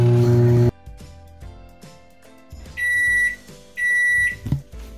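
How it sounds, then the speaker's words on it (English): Microwave oven heating a cake in a cup: a brief loud hum at the start cuts off, then quiet clicks and two sustained high electronic beeps near the end. "In the microwave for 45 seconds."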